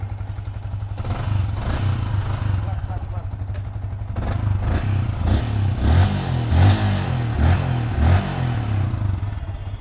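A Kawasaki Ninja motorcycle engine idles and revs with a low steady rumble, close by, while someone talks over it.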